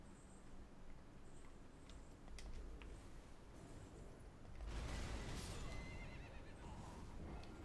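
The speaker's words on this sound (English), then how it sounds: "I'm going to sprint through on my horse." A horse in the Elden Ring video game whinnies, with soft hoof clip-clops and game ambience, then a louder rushing burst midway as it sprints on; no talking.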